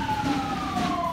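Patrol car sirens wail steadily in a slow gliding tone as police cars pass in an Independence Day parade on Avenida Morelos in Zacapu, Michoacán, Mexico, loud and continuous with no talk.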